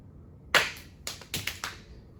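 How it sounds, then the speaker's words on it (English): A few sharp hand claps ring out in a quiet room, one crisp clap followed by a short irregular run of four or five more. "then just clap your hand"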